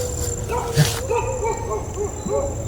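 A dog gives a few short yips and whimpering barks at moderate distance, spread across the moment over steady background hum and faint talk.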